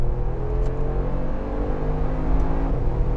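A Mercedes-AMG G63 accelerates hard in third gear in sports mode during a rolling drag race from 50 mph, with a loud, steady engine roar and whine heard from inside, no talk.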